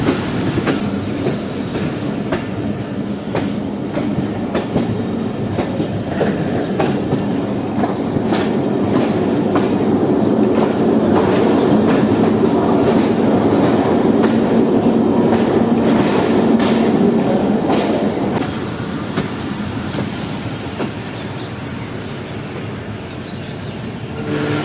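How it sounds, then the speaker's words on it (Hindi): The Jaffer Express pulls out of Peshawar City railway station with a steady rolling roar and rhythmic clickety-clack of wheels heard from aboard, swelling in the middle then easing slightly. "हमारी ट्रेन डिपार्ट कर रही है पेशावर सिटी रेलवे स्टेशन से"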